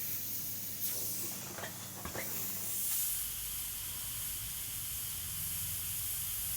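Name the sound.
airbrush spraying paint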